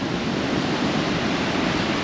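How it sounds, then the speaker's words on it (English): Strong coastal wind at Fowlers Bay, South Australia, roars steadily against the microphone, a constant broadband rush like surf with no voices. "it is bloody windy"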